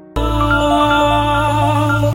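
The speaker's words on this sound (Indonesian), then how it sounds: "tiba-tiba ponsel Hyun-chul berdering" A mobile phone rings with a loud, steady electronic tone lasting about two seconds, starting and stopping abruptly, in a Korean drama scene with no talking over it.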